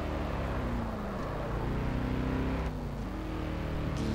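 A continuous, droning car engine from a racing video game, with rising and falling pitch as it revs and shifts, loud and close, with no other sounds.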